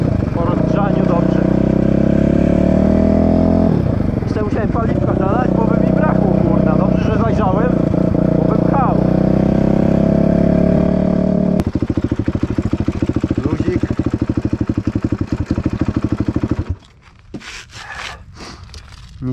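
Rebuilt Kawasaki KXF450 motocross engine running on its first start-up after reassembly, a loud close idle with revs rising and falling, a voice talking over it, before it cuts to quieter clicks and rustling.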